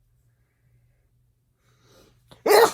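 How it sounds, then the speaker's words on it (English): A single sharp sneeze bursts out loudly at the end, preceded by a quiet breathy intake in an otherwise silent room. "I think I'm going to sneeze."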